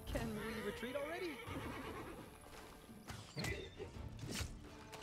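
Plague-stricken horses in Pathfinder: Wrath of the Righteous give wavering neighs and whinnies, with hoof clops and a few sharp thuds, heard fairly faintly.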